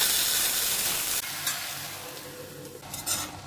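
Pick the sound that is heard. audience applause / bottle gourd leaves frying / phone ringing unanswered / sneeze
bottle gourd leaves frying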